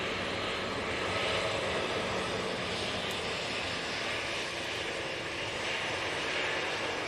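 A TUI airliner at Manchester Airport, bound for Malaga, roars steadily down the runway on takeoff, a dense, continuous engine rumble and whine at full power, alone and unbroken.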